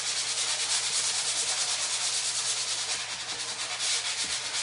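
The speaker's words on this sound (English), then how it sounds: "But I'm just giving it a light sand just to make sure that it is smooth." Sandpaper rubs lightly over a wooden riser in quick, steady back-and-forth strokes, a close, dense scratchy hiss that carries on without a break and with no voices.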